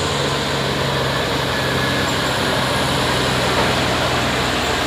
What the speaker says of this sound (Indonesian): Trailer Hino.